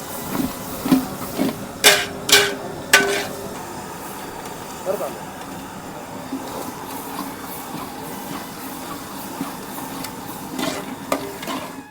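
Onion and garlic paste stir-frying in a pan for aloo matar bhaji, with a steady low sizzle under repeated scraping and clattering of a spoon against the pan, several sharp knocks early on.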